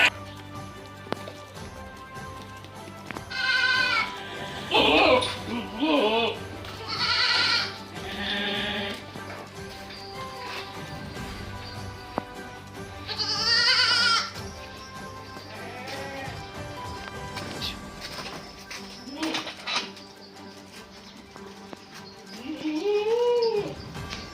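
Several goats bleat in short bursts at irregular intervals, some close and loud, others softer, over a quiet farmyard background.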